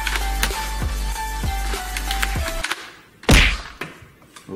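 A Nerf Elite Rough Cut 2x4 pump-action blaster firing, a run of four sharp plastic thunks at a regular pace, then after a pause one louder pump-and-shot clack, close and with no talking.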